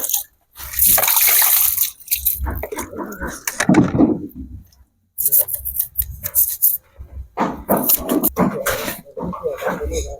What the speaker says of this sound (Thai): จะล้างเอาน้ำล้าง